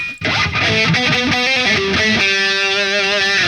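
A distorted seven-string electric guitar on its middle pickup plays a run of low, chunky notes with a nasal, quacky tone, sustained and fairly loud with no voices.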